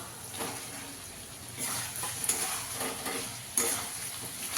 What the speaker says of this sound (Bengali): পটলটা দিয়েও ভালো করে কষিয়ে নেব।